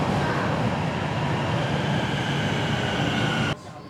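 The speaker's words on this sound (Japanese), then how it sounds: "地下鉄でホテルのあるシャオバイローの駅まで戻った。" Subway train ride in Tianjin, a loud continuous rumble of wheels and roar inside the carriage with faint squealing tones, cutting off sharply near the end.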